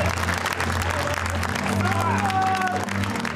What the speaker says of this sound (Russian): Аплодисменты боксерам.